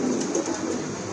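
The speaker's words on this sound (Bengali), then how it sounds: "এগুলো হচ্ছে আপনার রেড কালারের ভিতরে বোম্বাই কবুতর মাশাআল্লাহ।" Red crested Bombay running pigeons at a farm coo in a steady, low, rolling murmur, fairly close and continuous with no talking.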